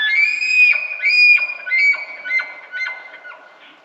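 Bull elk bugling from the edge of a tree line: a loud, high whistling scream that holds and then breaks into a series of descending grunting chuckles, each fading a little, with no other sound.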